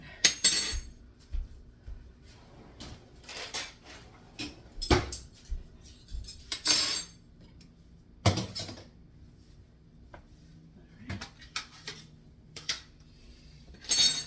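Spoon clinking against dishes while mixing, a string of sharp, bright metallic clinks and scrapes in irregular bursts, close and clear with quiet gaps between.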